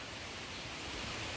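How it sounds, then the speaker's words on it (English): A mountain waterfall on a hike in Grand Teton National Park, heard as a steady, dense rush of falling water with no breaks. "There's a really nice waterfall right here."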